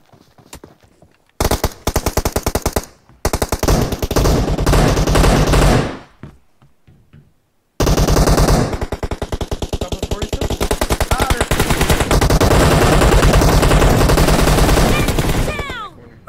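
Rapid bursts of automatic gunfire in a team deathmatch shooter game, loud and close, with a pause midway before a long sustained stretch of shooting while players talk.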